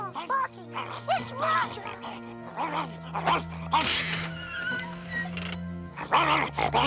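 A cartoon dog barks and yips a few times behind a door amid music and talking voices, fairly close but partly buried in the mix.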